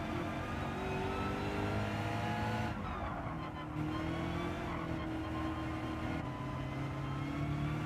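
A BMW race car in Gran Turismo 7 sliding on medium tyres, its engine droning steadily at high revs with shifting pitch, loud and continuous, with no talk.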